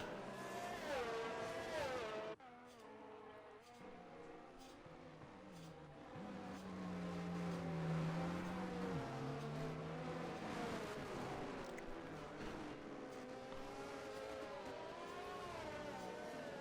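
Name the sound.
race car engine at half throttle in a racing video game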